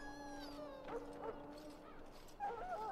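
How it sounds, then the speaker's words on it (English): A dog in the video game Dragon Age: Origins, at Ostagar, whimpers and yips in high, wavering cries, close and clear, with several short whines in a row and no speech. "The dog looks up at you respectfully, backing down from his aggressive stance."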